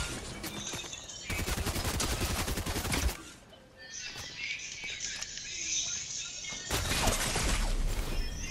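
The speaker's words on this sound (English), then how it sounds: "Oh, somebody's shooting you." Video-game gunfire rattles in bursts, with rapid automatic fire from about one to three seconds and again near the end, plus scattered shots and crashes in between, loud and close.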